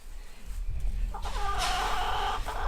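Chickens clucking on a farm during puppy training, a few soft low sounds at first, then a louder burst of close clucking and squawking that carries on to the end.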